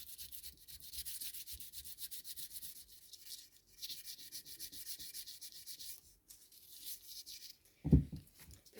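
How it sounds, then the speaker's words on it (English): Milliput epoxy putty on a figure's hat being gently hand-sanded, with soft repeated rubbing strokes in short bursts and a sharper knock near the end. "and just gently sand"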